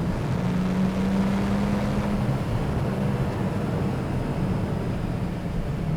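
Porsche 911 Turbo 997.2 engine droning steadily after a downshift to third gear, a loud continuous low rumble with a brief tonal rise near the start, no talking.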